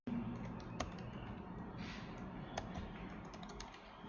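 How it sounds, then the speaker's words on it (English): Fast, light typing on a computer keyboard while entering text into Microsoft PowerPoint, a steady close stream of soft key clicks with a few sharper, louder taps. "So as you click, you type in what you want to type."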